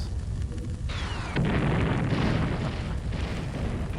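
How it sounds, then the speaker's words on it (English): A video game explosion: a deep rumbling boom erupts and rolls on with a crackling roar, loud and sustained after a brief rising whoosh. "Soft rendered explosions there."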